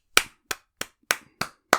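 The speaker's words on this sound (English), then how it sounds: "Lego, you have my applause." Six sharp hand claps in a slow, even rhythm, close and crisp with silence between each, given as applause for a finished Lego Thor's New Asgard build.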